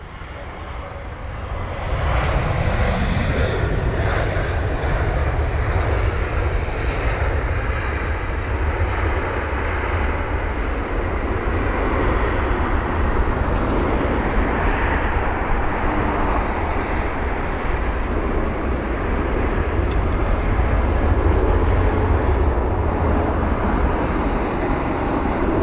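An Airbus A320 lands at London Heathrow, its engines swelling into a loud, sustained roar with deep rumble that stays steady and strong for the rest of the approach and touchdown.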